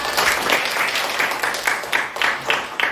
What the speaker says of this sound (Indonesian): Tepuk tangan untuk Jara.